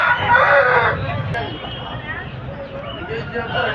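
A rooster crows close by at the start, its drawn-out call fading as someone talks over background noise at a country-chicken market in Mydukur.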